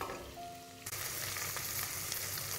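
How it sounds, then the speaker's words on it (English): Prawn heads and shells fry with two shallots and a clove of garlic for stock, sizzling steadily up close, with a sharp surge of hiss partway through as the pan heats or is stirred, no voices. "And fried all the heads and the shell of the prawns."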